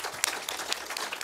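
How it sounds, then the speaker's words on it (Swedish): An audience at a public forum on elder care applauds invited guests, a brief, fairly faint spell of scattered clapping with no talk over it. "jag tycker vi ger dem en applåd också"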